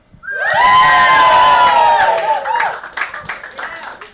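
Loud live crowd cheers, whoops and claps right up close at an evening music show on a bench in Boise, Idaho, a big swell that fades into scattered claps and shouts.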